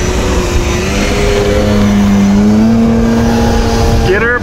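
A Stuka model airplane engine at full throttle on takeoff gives a loud, continuous high whine whose pitch bends and rises as it climbs away.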